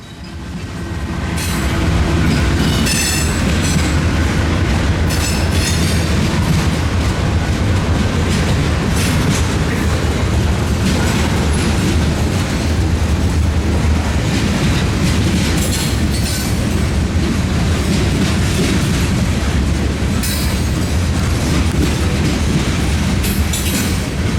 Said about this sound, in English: another Norfolk Southern manifest makes its way through